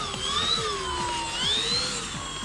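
Horizon Hobby RC plane with a carbon spar and heavy battery pack, its electric motor whining steadily in flight as the throttle eases back, pitch sliding up and down while the sound stays close and continuous.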